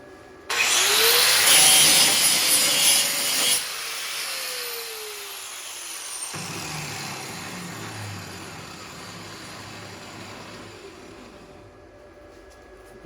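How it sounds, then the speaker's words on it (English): An angle grinder bites into a steel welding work table for about three seconds, a loud harsh whir, then spins down with a fading whine that trails off. "I'm gonna grind a spot here for the ground"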